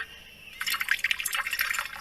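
Water poured into an animal's drinking bowl, a splashing, dripping stream that starts abruptly after a moment of quiet and continues steadily, close and fairly loud.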